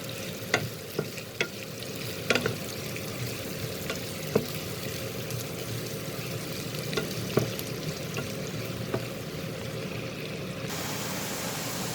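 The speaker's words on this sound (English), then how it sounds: "I'll cook this till the onions becomes little translucent" Onions fry in a pan for chana masala, a steady moderate sizzle broken by occasional sharp clicks and scrapes of stirring, with no voices.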